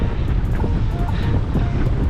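Strong wind roars steadily by a gravel-pit lake, buffeting the microphone with a dense, constant low rumble for a couple of seconds, no voices.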